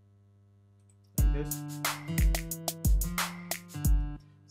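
Unquantized synth melody in a producer's session, played back with notes landing unevenly off the beat over a sustained low pad; a few loud plucked hits in an irregular rhythm, close and clear, with a brief spoken phrase at the end.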